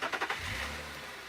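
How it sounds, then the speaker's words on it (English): Safari vehicle engine idling at a distance on a windy morning game drive, a low steady rumble partly masked by gusting wind noise. "Can hear Tax's vehicle a little bit further."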